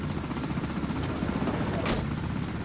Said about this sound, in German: Das ist ein schmaler Heli, hör auf damit!